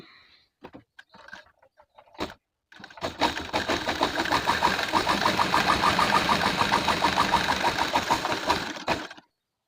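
A sewing machine stitches a decorative design in multicoloured thread. A few brief handling knocks come first, then a steady, fast, close run of stitching lasts about six seconds before stopping.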